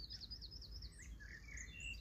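Birds chirp and warble in short rising and falling notes above a low wind-like rumble at a campsite in Zeeland, Netherlands, with no voices present.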